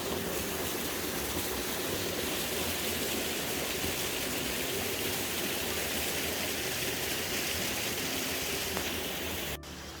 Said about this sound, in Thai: มาถึงน้ำตกอีกหนึ่งชั้นแล้วค่ะ